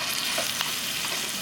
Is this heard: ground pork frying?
yes